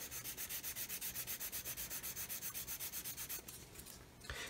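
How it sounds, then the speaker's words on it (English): Sanding paint on a plastic 1/144 Roden C-141B Starlifter model aircraft: quick, quiet rhythmic back-and-forth rasping strokes, evenly paced and close up, briefly breaking pattern near the end. "I'm just going to do some more sanding here"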